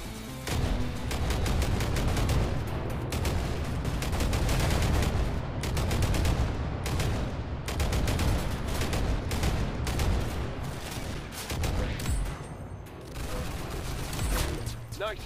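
Sustained, dense gunfire in a Roblox shooting game, with rapid overlapping shots and booming bursts that keep up loudly for the whole stretch with only brief dips.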